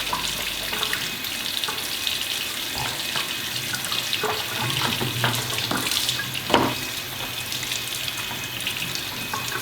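Tap water runs steadily from a faucet as plastic microgreen grow-tray channels are rinsed clean of dust in an apartment sink, a continuous broadband splashing and hiss with small clunks and one louder knock near the end.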